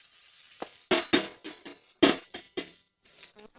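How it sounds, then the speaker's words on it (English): Beef sizzling and crackling in a hot pot over a campfire, broken by a series of sharp bursts of frying and clattering, fairly close with no talking. "The beef slowly goes into the pot. Sizzle."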